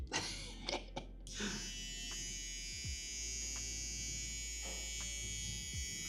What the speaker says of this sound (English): I brought this pen sander with me